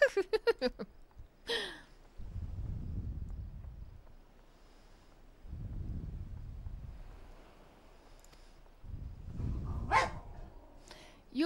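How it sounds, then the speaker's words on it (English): Dogs barking in a short burst at the start, then low rumbling wind buffeting the microphone in three long gusts, with another sharp bark or yelp near the end; no talk. "Those dogs."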